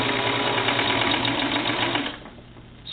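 A serger stitches doll bloomers in a fast, loud, steady whirring run close by, then slows and stops near the end, with no voices.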